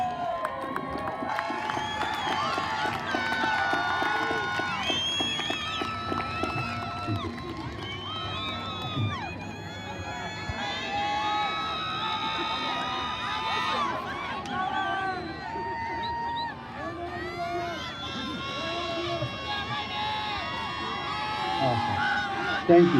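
A graduation crowd in the stadium stands of a high school ceremony cheers and shouts continuously, with whoops, whistles and excited children's voices layered in a dense, sustained roar that swells near the end.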